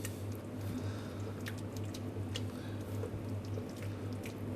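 Garam masala stirred into a pot of chickpea chana masala gives soft, wet squishing and sloshing sounds over a low steady hum, close and fairly quiet.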